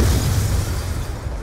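Grenade blast in Call of Duty Black Ops II multiplayer: one loud, heavy boom that fills the clip and slowly fades as a rumbling tail.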